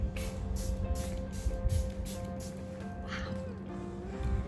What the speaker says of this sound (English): So I'm just gonna spritz my face, all over my face. I'm gonna use the Charlotte Tilbury Airbrush Flawless Setting Spray.